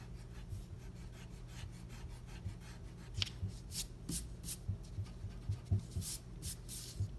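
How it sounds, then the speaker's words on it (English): A worn eraser scrubs back and forth over pencil lines on paper, faint at first and then a quicker run of short rasping strokes that grow louder in the second half. "I can erase my pencil lines."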